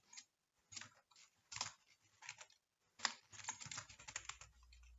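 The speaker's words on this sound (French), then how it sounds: "je l'ai tapé, la parenthèse" Code typed on a computer keyboard, heard as close, quiet bursts of key clicks in irregular clusters separated by short pauses, with a faster run of keystrokes near the end.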